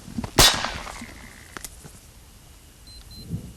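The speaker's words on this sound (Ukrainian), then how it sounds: "Стріляють у металеву плиту бронебійними російськими кулями." An armor-piercing 5.45 round is fired at a heavy metal body-armor plate, producing one sharp, loud gunshot crack with a brief ringing tail, followed by quieter handling sounds and a faint thump.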